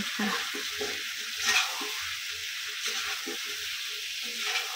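Chicken pieces and potatoes being stirred and browned in a pan: repeated close spoon scrapes and shuffling over a soft, constant sizzle.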